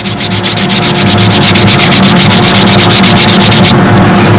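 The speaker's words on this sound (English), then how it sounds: "Just get some of that material out with the Dremel, the carbide wheel." A Dremel fitted with a carbide wheel carves material from a wing tip, a loud, close, high-pitched whining grind with rapid rhythmic pulsing that stops abruptly near the end.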